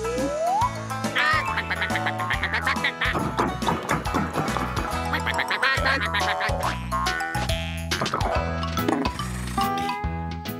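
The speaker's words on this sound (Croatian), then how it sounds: "Zatim je Tom pronašao patke." Cartoon ducks quacking in a farm scene from the animated series Tractor Tom, with short nasal calls mixed into bouncy, busy background music that plays continuously.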